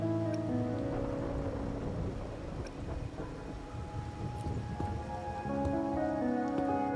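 Steady rain patters in a video game scene, soft and continuous, with faint tonal game music underneath and no talking.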